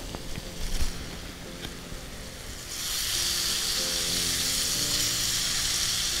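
Chopped bottle gourd hits a hot pan of tomatoes and salt in oil, setting off a sudden loud, steady sizzle that stays strong after a few quieter clinks and stirring noises.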